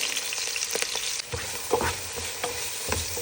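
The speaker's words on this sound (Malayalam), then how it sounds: "നമുക്ക് സവാള, പച്ചമുളക്, കറിവേപ്പില, ഇഞ്ചി, വെളുത്തുള്ളി പേസ്റ്റ് ഇതെല്ലാം കൂടിയിട്ട് വഴറ്റാം" Onions, green chilli, curry leaves and ginger-garlic paste sauté in a pan for chicken curry, giving a steady close sizzle with the scrape and clatter of a spoon stirring through it, no voices.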